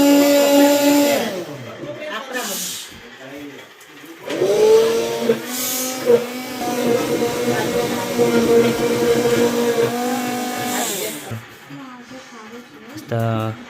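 A home mixer grinder blends cream, its motor whining steadily and shifting pitch as it speeds up and slows, with a few stops, while voices chatter faintly alongside.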